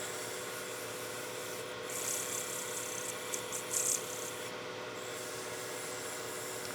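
Sandpaper rubbing against a turned wooden Christmas gnome hat spinning on a lathe, a steady soft abrasive hiss with a few brief louder scrapes as grit contact varies; no talking.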